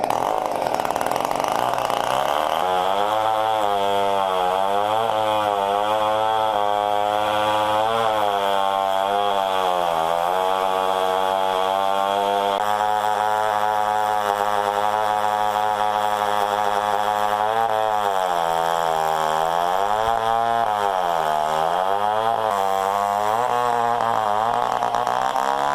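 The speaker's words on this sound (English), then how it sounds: "it's still a loud saw" A chainsaw mill rips lengthwise through a bur oak log, its loud engine roaring steadily for the whole stretch and bogging and rising in pitch as the cut loads and eases, with no talk over it.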